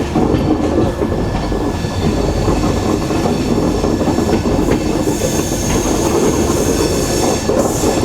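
Agartala Express train 15664, pulled by a diesel locomotive near Nilam Bazar, rolls on through a curve with a loud, continuous rumble and faint wheel squeal, heard from inside a coach.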